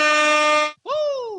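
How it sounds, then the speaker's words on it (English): An air horn blast from a podcast soundboard, loud and close: one long steady blare, a short break, then a second blast that bends downward in pitch, with no talking over it. "shouts out to our great producer Casey on the 1s and 2s with the air horns and the Herm soundboard."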